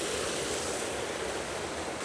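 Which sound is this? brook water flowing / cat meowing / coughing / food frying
brook water flowing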